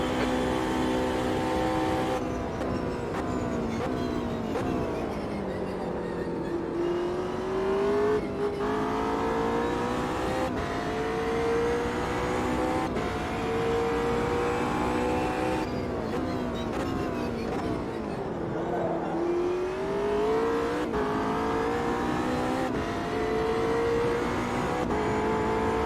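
A race car in a racing video game drives out of the pit, its engine holding a steady rising and falling drone with gear-shift dips, close and continuous for the whole stretch with no talk.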